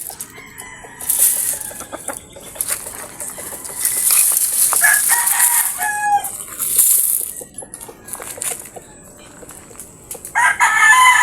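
Free-range backyard chickens cluck steadily in a shaded yard while a rooster crows several times, loud and close, with a high bird call breaking in at intervals.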